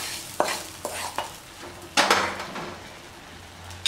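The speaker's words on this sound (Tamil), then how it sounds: "இப்போ வதக்கின இந்த வெங்காயம் தக்காளியை இது கூட மிக்ஸ் பண்ணிப்போம்" Cabbage poriyal in a pan being stirred with sautéed onion and tomato: several sharp spoon scrapes and knocks against the metal, then a longer scraping burst, over a faint sizzle.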